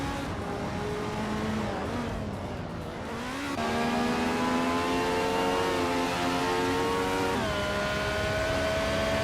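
A racing game's 1973 Porsche 911 RS engine drones steadily, with a rising whine that shifts pitch at each gear change across the run, loud and continuous with no talk.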